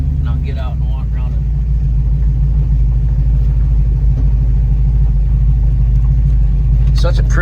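A 1974 Dodge Challenger 360 engine rumbles low and constant at close range while reversing, as a person talks briefly at the start and end.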